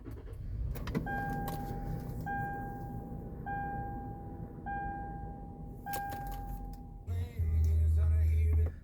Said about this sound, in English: I'm going to turn on the vehicle